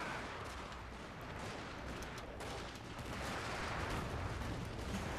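Dense, continuous battle gunfire from a Total War Shogun 2: Fall of the Samurai fight, with rolling volleys of musket and artillery-like shots forming a steady roar throughout, no talking.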